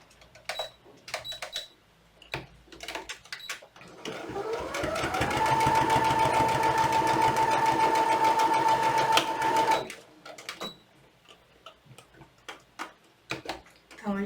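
A sewing machine stitches a teddy bear in one steady run of about five seconds, with a humming whir and rapid ticking, framed by short clicks and handling sounds before and after.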